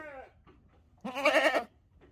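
A goat bleats once, loud and close: a wavering, nasal cry lasting about half a second, preceded by a shorter quiet call.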